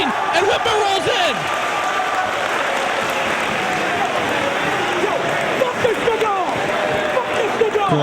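Wrestling crowd at a Ring of Honor event cheering and applauding as Whitmer rolls back into the ring, a steady dense roar of claps and voices sustained throughout with scattered louder shouts.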